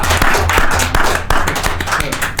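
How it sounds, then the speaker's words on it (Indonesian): An audience at a talk applauds, a quick run of close claps over a low rhythmic background with some murmuring voices. "Aplaus lah."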